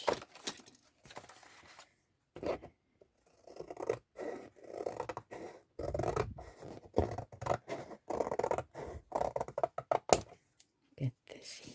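Scissors cut through strip material used to build a box form for clay, producing choppy bursts of close snipping and scraping broken by short pauses.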